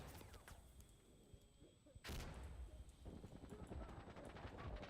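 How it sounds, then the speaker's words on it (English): A grenade explodes in the shooter game Arc Raiders, a sudden loud blast about midway followed by rumbling, crackling debris noise, heard over a low ongoing background of gunfire-like rumble. "Ooh, that's a nade."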